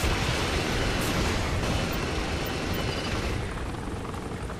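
A helicopter in Saints Row: The Third roars loudly with a dense, steady rotor and engine wash that eases slightly toward the end, with no voices.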